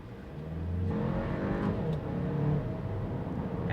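A 2020 Audi Q2 engine revs and pulls hard in sport mode, with quick manual upshifts breaking up the rising drone. It is steady and fairly close, and no one speaks.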